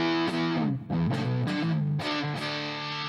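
Electric guitar played through its neck pickup with heavy distortion, a handful of sustained, gritty notes and short slides ringing out loud and alone.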